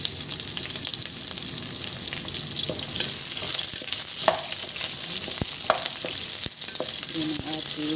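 Garlic and onion fry for squid adobo, giving a loud, constant sizzle close by, broken by occasional stirring scrapes and light clacks of a utensil.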